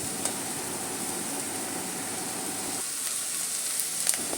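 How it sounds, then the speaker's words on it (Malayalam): Chopped long beans dropped into a hot pan with coconut oil hiss and sizzle steadily, a soft crackling frying noise that brightens slightly as the beans go in. "നമുക്ക് അരിഞ്ഞു വെച്ചിരിക്കുന്ന പയർ പയർ ഇട്ട് കൊടുക്കാം"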